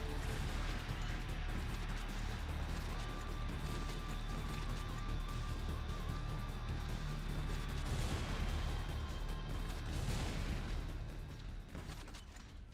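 Repeated heavy booming shots from a stake launcher in the Wall World video game, a dense, sustained barrage of impacts layered over constant game noise for the whole stretch, loud and busy throughout.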